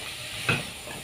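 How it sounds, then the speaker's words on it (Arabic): Fava beans with garlic sizzle in a hot pan, a steady crackling hiss with one brief louder spatter in the middle. "زي ما انتم شايفين كده الفول اتشوح اهو، بدأ يطشطش كده"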